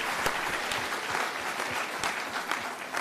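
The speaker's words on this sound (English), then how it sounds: "another round of applause" Applause from a town hall audience, a dense, steady patter of many hands clapping throughout with sharp individual claps standing out, no talk over it.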